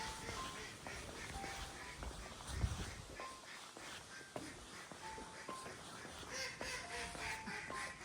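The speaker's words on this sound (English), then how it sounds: "The duck's laughing at us." Ducks quacking beside a loch at a Highland resort: repeated short nasal quacks, fairly distant and soft, scattered over a low outdoor background.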